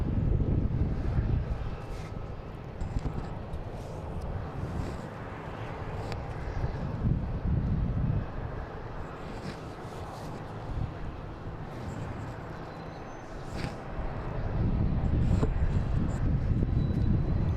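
A JetBlue airliner at Boston Logan airport rumbles as a steady low roar that holds through and swells near the end, mixed with wind buffeting the microphone.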